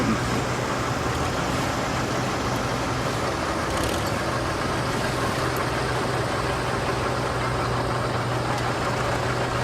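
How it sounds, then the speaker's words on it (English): Antique tractors roll down a street during a summer festival parade, a steady low engine drone with idling chug and broad traffic-like rumble that stays continuous and fairly loud throughout, with no voices. "And there are a lot of tractors coming down the street."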